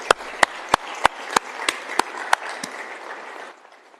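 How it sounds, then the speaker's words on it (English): Audience applause at a closing ceremony, with steady crowd clapping carrying several sharp, evenly spaced louder claps standing out near the front before the sound cuts off abruptly. "Let's give them a round of applause"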